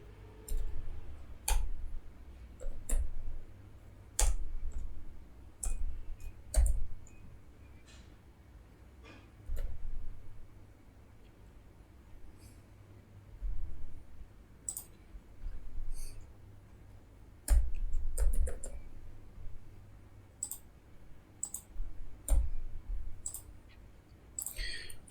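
Clicky keystrokes from a computer keyboard as Rust code is typed, coming in irregular bursts with short pauses, fairly close and moderately quiet, with no talking.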